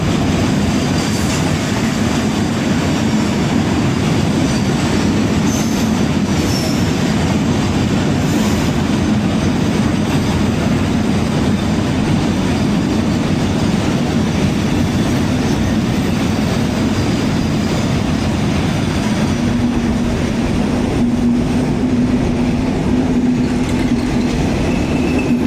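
A BTO freight train rolls steadily past a station platform, a loud, sustained rumble and clatter of wagons lasting the whole stretch, with a faint squeal of wheels near the end.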